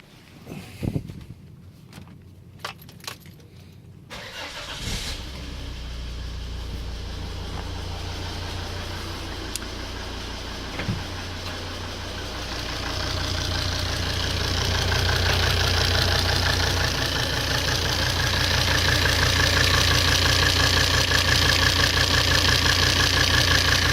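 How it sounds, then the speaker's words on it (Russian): A Volvo D5 diesel engine is cranked and starts after a few sharp clicks, then settles into a steady, close idle with a knocking rumble that grows louder and rougher toward the end. "Следующим заводим двигатель."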